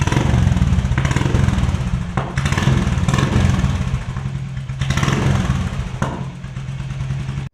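Loud, close exhaust note of a Royal Enfield Classic 350 with an aftermarket Shark silencer, a deep pulsing thump with occasional blips of throttle, no voices.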